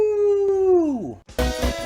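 A person imitates a wolf with a long, steady, clear howl that slides downward and fades out, followed by a brief burst of louder, rougher vocal noise.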